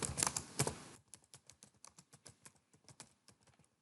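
Keystrokes on a computer keyboard, a dense cluttered burst at first, then a quick steady run of separate crisp taps, close and fairly quiet with no talking.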